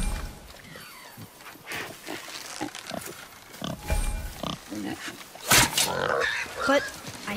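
A wild boar in the video game God of War grunts and snorts in a few short bursts, with a louder squeal near the end, heard under nearby talk.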